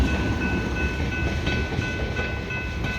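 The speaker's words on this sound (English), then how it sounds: "here comes the end of the train" The tail end of an Ohio Central freight train rolls through the 30th Street grade crossing in Newark, Ohio, a close, steady rumble of railcars under the constant two-tone ringing of crossing bells.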